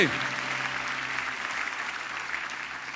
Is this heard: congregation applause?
yes